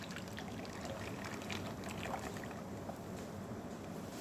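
Caramel custard batter pours into a mould, a steady, soft liquid rush that is close and continuous, without a break.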